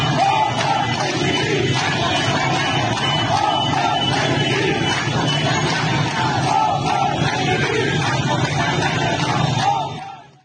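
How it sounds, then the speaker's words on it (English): A large crowd marches through the streets of Khoshkbijar in Gilan province, protesting frequent water and power outages. There is a continuous loud roar of many voices with shouts and a steady rumble, lasting throughout before fading at the end. "the streets of Khoshkbijar in Gilan province were the scene of a protest march by a large crowd"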